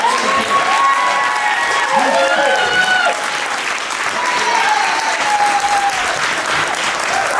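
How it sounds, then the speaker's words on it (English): An audience at a pre-Kwanzaa community celebration applauds a children's dance, with sustained, loud clapping and crowd noise throughout while voices and whoops rise above it. "Let's give them a hand."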